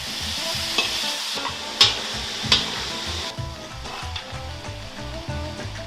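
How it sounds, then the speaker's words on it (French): Food sizzles and crackles while frying in banana oil for a shawarma cooking contest, with occasional sharp clatters of stirring over the continuous hiss. "Ensuite, nous faisons frire dans l'huile de banane."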